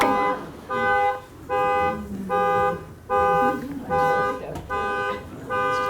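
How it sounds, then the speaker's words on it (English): A car horn beeps repeatedly in a steady rhythm, roughly seven loud, evenly spaced blasts with brief gaps, close by and dominating the scene. "Does anybody know what their horn sounds like? Sounds like a Toyota."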